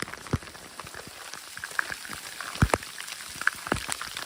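Rain falls steadily on an outdoor hiking trail on the Tongariro Crossing, with scattered close drops tapping on a hood or gear over a soft, constant hiss.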